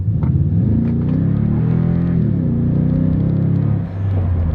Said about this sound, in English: You can hear those tires spin.